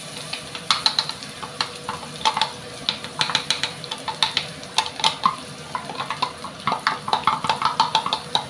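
Garlic sizzles in a pan while being stirred for liver beef steak. Frequent clinking scrapes and soft spattering crackles repeat in an uneven, busy rhythm at close range.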